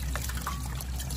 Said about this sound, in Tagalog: Naghuhugas ako ng plato sa labas.